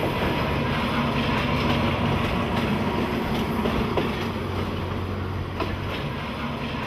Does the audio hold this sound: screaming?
no